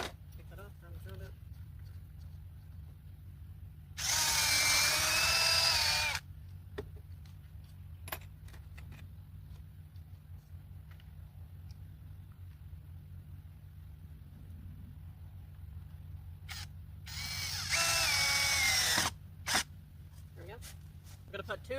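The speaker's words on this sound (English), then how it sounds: "So drill that in on one side, take the drill bit off, grab the other drill bit, place that in, grab a screw" Power drill driving screws into a wooden platform framework, two loud bursts of whirring about two seconds each, close by, separated by quieter handling clatter and scattered clicks.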